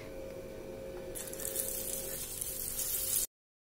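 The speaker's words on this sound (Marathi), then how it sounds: "उरलेली अशाच प्रकारे आपण फ्राय करून घेऊया" Moong dal bhaji fry in hot oil with a dense, bright sizzle that swells louder partway through and holds steady up close before cutting off abruptly.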